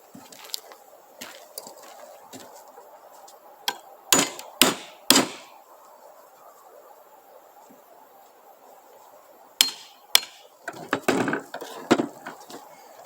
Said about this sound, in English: that's where I'll use the chisel and just get that out